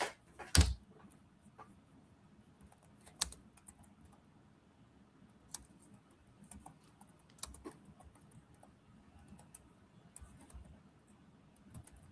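Someone types a search query on a computer keyboard in quiet, sparse bursts of soft clicks, with a sharper knock at the start and long near-silent gaps between the keystrokes.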